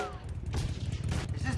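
Rapid bursts of gunfire in the 1993 comedy film Loaded Weapon 1, several loud close shots cracking in quick succession over a busy movie soundtrack.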